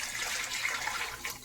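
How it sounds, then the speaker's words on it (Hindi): Four cups of water pour into a pot of roasted chana dal, a steady close gushing splash that keeps running for the whole moment without pause. "अब हम इसमें 4 कप पानी ऐड करेंगे।"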